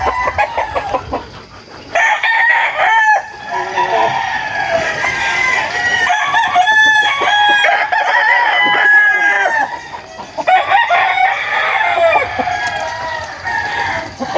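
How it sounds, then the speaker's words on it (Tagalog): Several tethered gamecocks crow on a rooster farm, their calls overlapping and repeating through the whole stretch, loud and close with others answering farther off, plus scattered clucking. "Papakita ko po sa inyo yung ibang manok dito."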